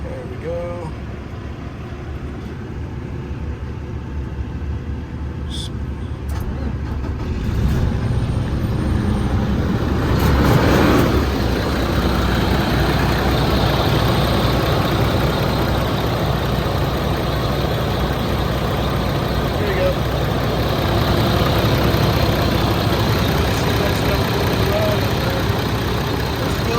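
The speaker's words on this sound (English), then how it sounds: "Filled up all the way, and I'm just gonna let this idle" Semi truck diesel engine idling steadily after injector cleaner was added, a continuous low rumble that holds close and even throughout with faint talk.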